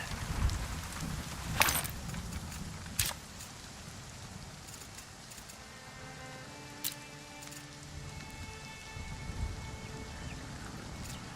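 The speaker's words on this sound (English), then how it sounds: "under the tent here while it's raining." Steady rain falls in the survival game Nightingale, a continuous soft hiss with a few sharper clicks and taps of drops landing nearby, with no one speaking.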